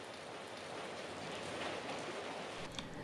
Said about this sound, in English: here's some rain ambience